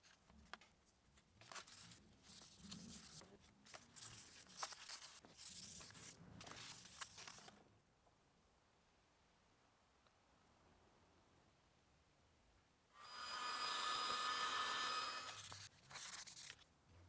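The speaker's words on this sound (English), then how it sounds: "This time I'm using 400 grit sandpaper." Hand sanding with fine 400 grit sandpaper on a bulldozer part during a hydraulic repair: soft, irregular scraping strokes with a quiet gap, then a louder sustained stretch of rubbing near the end.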